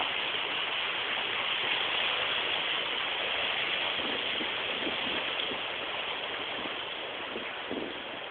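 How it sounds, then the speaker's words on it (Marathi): A stream on a trek to Velha Varoti near Singapur rushes steadily and fairly loudly, a constant dense hiss with small splashing textures, heard alone without any talking. "बघा जोरात पाण्याचा सुंदर आवाज येतोय. पाणी वाहत आहे"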